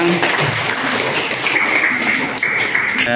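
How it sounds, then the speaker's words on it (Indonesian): Audience applause for a student group after a classroom presentation on the Quran, a dense patter of clapping that fills the whole stretch at steady loudness with no pauses. "Kita beri aplaus ya, untuk kelompok 2."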